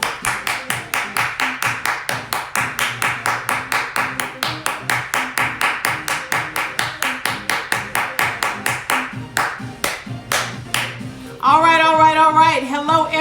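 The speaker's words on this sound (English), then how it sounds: "Let's clap it up." A group claps in a steady, even rhythm at a business gathering, sharp regular claps for about eleven seconds before a voice starts speaking.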